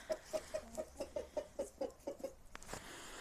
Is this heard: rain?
no